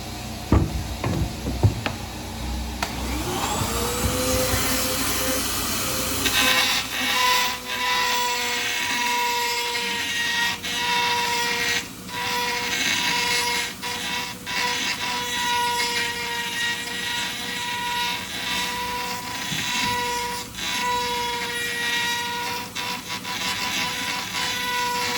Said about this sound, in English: I'm gonna use this tungsten carbide burr over burr to sort of perfect the opening here to make it balance on all sides